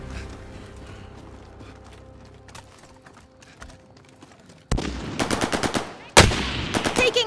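Heavy gunfire erupts in Call of Duty: Warzone. After several seconds of quiet ambience with scattered small clicks, loud rapid automatic bursts break out and carry on in quick repeated volleys.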